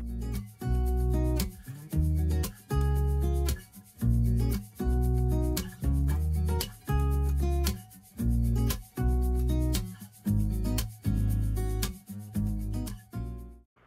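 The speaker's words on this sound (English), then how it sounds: "When you're wiping back the oil wax, it's important to really make sure you get it all." A cloth wiping oil wax back off wooden furniture in about a dozen steady back-and-forth rubbing strokes, close and fairly loud, with a brief gap between each stroke.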